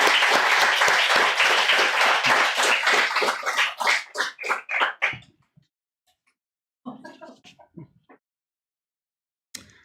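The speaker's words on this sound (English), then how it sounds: "Thank you again, everyone, for a round of applause" Audience applause at a literary reading, a dense burst of clapping that thins into scattered claps and fades out, followed by faint brief sounds and a lone clap near the end.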